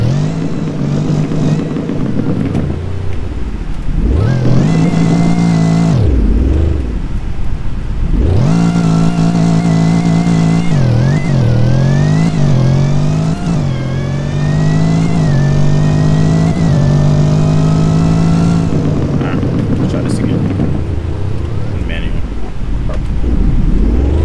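A Mercedes E63 AMG launching in second gear in manual mode, its engine roaring loud and close as revs climb in long rising sweeps, with a shift and a drop between pulls. Someone talks over it.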